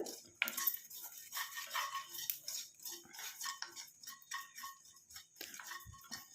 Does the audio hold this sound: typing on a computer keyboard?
no